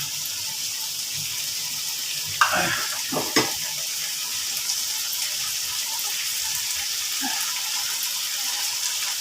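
Chili chicken with Thai eggplant stir-fries in a pan with a steady, close sizzle, broken by a few sharp clatters from stirring and scraping partway through, with no talk.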